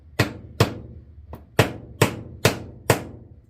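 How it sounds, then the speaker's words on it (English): Nylon-faced firearms repair hammer tapping a part of an ABU Garcia Ambassadeur 5500 CL3 fishing reel, seven crisp evenly spaced taps, one softer, close and alone. "If this hammer is made for firearms repair, it's got a nylon end on one side"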